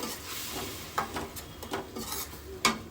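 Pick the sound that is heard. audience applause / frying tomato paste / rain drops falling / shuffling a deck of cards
frying tomato paste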